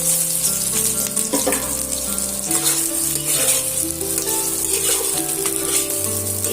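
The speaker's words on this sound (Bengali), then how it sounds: "যে ম্যারিনেট করা সয়াবিনগুলো রেখেছিলাম সেটা আমি তেলের মধ্যে দিয়ে আমি ভালো করে ভাজা করে নেবো" Marinated soya chunks fry in hot oil with a loud, steady sizzle that fills the whole stretch, broken now and then by stirring; no one speaks.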